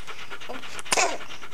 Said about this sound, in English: Good nose, Judy dog.